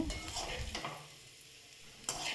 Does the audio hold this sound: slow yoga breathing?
no